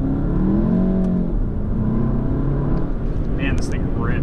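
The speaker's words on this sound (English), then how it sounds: "Back into sport, see how it shifts on its own." A tuned VW MK7 GTI with a Cobb DSG tune accelerates hard in sport mode, and its steady engine drone fills the cabin as gears shift automatically. Someone talks over the loud, continuous noise.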